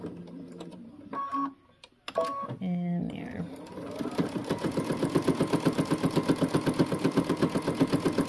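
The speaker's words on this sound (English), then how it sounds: "Starting from the bottom of the dart and stitching through the small dots." A home sewing machine stitching a dart along marked dots, its steady motor hum and rapid needle rhythm building up loud and close after a few starts and stops, with brief speech near the start.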